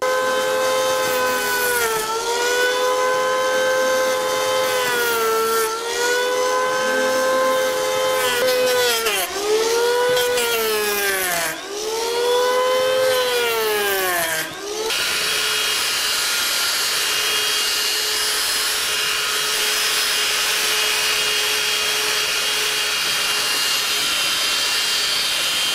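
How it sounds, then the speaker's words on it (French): An electric hand plane whines in rising and falling tonal sweeps as it chamfers a wooden chair edge, then a belt sander takes over with a steady harsh roar for the last ten seconds, loud and close. "je vais utiliser deux choses, d'abord le rabot et ensuite la ponceuse à bande"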